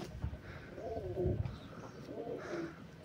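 Pigeons drinking water dosed with vitamin B12 coo softly nearby in two or three low, rounded phrases against a quiet background.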